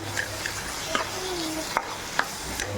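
Chili powder and garam masala sauté in a pan for chicken kheema, giving a steady close sizzle broken by a few sharp clicks and scrapes of stirring, with no voices.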